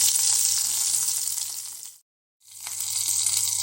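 Slit green chillies frying in hot oil for a ridge gourd and tomato chutney give a loud, dense, close hiss that cuts off briefly to silence and then resumes just as strongly, with no talking.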